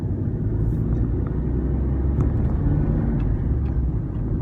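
Steady low engine and road rumble from inside a moving Citroen C1, a small cheap hatchback, loud and continuous throughout with no talking.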